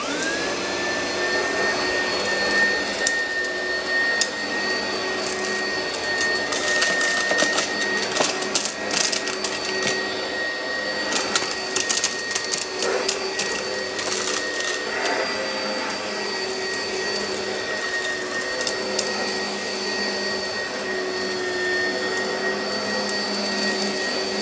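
An Oreck U3770HH upright vacuum cleaner runs steadily on a shop rug, giving a loud, continuous motor whine with a high tone and rattling brush noise that holds throughout, with no talking.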